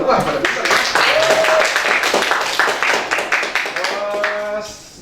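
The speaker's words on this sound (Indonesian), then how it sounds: "tepuk tangan dong" A burst of group clapping mixed with voices and cheering, loud at first then tapering off toward the end.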